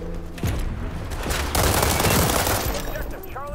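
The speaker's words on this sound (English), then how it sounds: "Not sure who was shooting me." Gunfire in the shooter game WW3, a dense burst of shots building from mid-clip into sustained loud firing, with a brief clatter near the start and a rising tone at the end.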